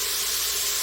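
Steady high hiss of cabbage and potato soup ingredients sizzling in a pot, continuous and close, with no voices.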